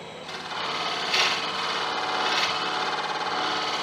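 Carbide tool cutting Irish bog oak turned on a wood lathe, a steady, close, continuous shearing hiss with a slight swell partway through, alone without talk.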